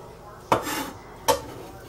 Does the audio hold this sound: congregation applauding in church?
no